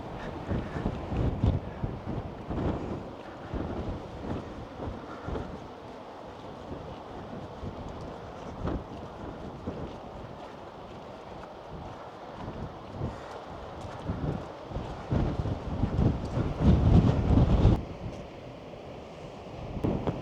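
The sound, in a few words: strong wind on a cliff by an Irish beach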